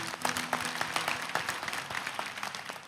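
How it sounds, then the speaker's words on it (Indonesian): Church congregation clapping in praise to God during a sermon, a short burst of scattered, fairly faint applause with quick irregular claps. "Oh kasih tepuk tangan dulu untuk Tuhan."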